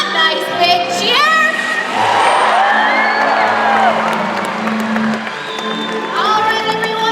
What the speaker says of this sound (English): we're going to give him a round of applause. A nice big cheer.